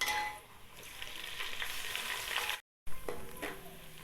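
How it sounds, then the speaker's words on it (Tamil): Onions frying and browning in a pan for mutton basmati dum biryani, a steady close sizzle with occasional stirring scrapes, broken by a short moment of silence before the frying resumes. "வெங்காயம் நல்லா இந்த அளவுக்கு ப்ரௌன் ஆனதுக்கப்புறம் சிம்ல வச்சு நம்ம மல்லி இலை சேர்த்துக்கலாம்"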